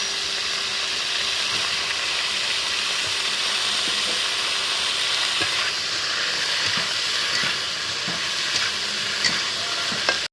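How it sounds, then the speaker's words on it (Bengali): Parboiled cauliflower frying in a pan for a winter vegetable curry, a continuous close sizzle with scattered crackles and occasional stirring clinks throughout. "ফুলকপিটা আমার অর্ধেকটা ভাজা হয়ে গেছে"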